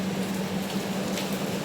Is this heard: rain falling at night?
yes